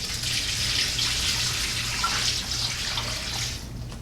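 Water pours steadily into a stock pot holding roasted corn and bay leaves for stock, a continuous close rushing splash with no talk.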